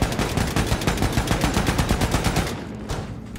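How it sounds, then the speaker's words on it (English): Rapid gunfire from a weapon in the shooter game Wolfenstein II: The New Colossus, a dense, loud burst of quick repeated shots lasting about two and a half seconds before trailing off into quieter shots. "I love being able to fire basically as fast as I can press."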